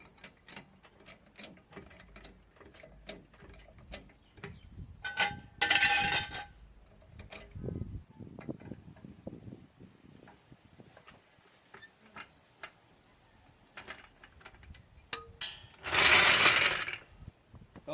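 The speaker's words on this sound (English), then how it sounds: "Okay, let's remove the jack stand and the jack." A car jack ratchets and clicks down beside a 2012 Toyota Tacoma, then a metal jack stand is pulled away with clanks and scrapes, with two louder bursts of rattling mechanism; close and alone, no talk.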